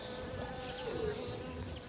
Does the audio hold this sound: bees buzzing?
yes